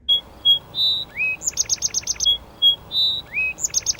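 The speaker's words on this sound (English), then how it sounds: "It's the birds." Birds chirp in the early morning, alternating clear whistled notes, rising slurs and quick rapid trills in a repeating pattern, fairly close and distinct over quiet background.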